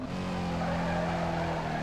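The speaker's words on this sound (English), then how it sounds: "This car's actually solid at drifting" Video game car drifting in Need for Speed Carbon, a steady engine drone with sustained tire squeal skidding through the corner, loud and continuous without speech.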